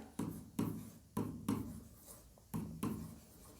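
A pen writing on paper while working through an accounting problem, with six short scratchy strokes in an uneven rhythm, close and fairly quiet, with no talking.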